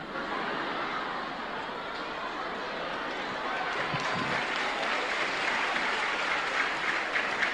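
Applause from listeners at an Islamic sermon for the Prophet's birthday (Maulid Nabi), a dense, steady wash of clapping that holds at an even level from start to finish.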